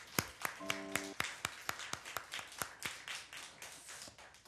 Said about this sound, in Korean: 박수로 영광을 올릴까